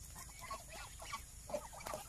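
Several domestic geese call with a few nasal honks and cackles at a steady, moderate level, with no voices.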